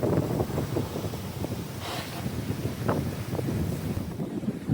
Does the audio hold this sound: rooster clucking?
no